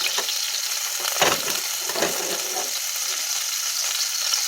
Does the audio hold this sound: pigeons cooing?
no